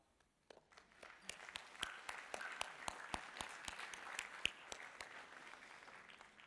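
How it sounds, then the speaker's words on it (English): Scattered applause from a small audience, faint and distant, with individual claps standing out in an uneven patter. "Do you want to just give yourselves a little round of applause?"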